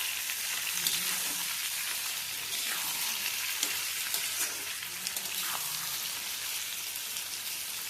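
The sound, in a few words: frying and stirring pointed gourd (potol) in oil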